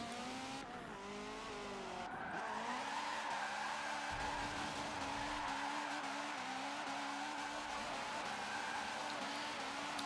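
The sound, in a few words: car spinning around with tire squeal in Forza Motorsport 7 video game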